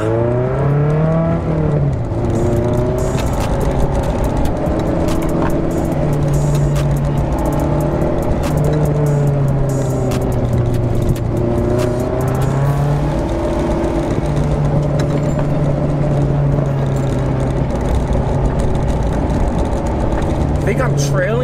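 A car on an SCCA autocross course in Atlanta holds a loud, steady engine drone close by, with pitch sweeping up and down through corners and gear changes and no pause.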